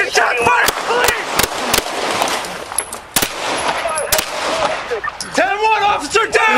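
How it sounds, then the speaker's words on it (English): Gunfire erupts as police officers return fire in a squad port: several sharp, loud shots crack out, spaced irregularly across the clip, with shouting voices and commotion between and under the bursts. "The squad port echoed with gunfire as officers returned fire."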